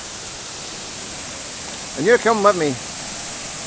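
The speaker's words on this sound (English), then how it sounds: "the waterfall's very noisy" Glenashdale Falls in the rain, a loud, steady broadband rush of falling water filling the whole clip, with someone speaking briefly over it.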